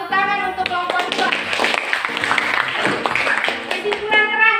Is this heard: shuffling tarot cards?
no